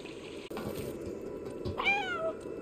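A stray cat gives one clear, drawn-out meow near the end, rising then falling, over a quiet background of soft running-water-like noise, with no voices.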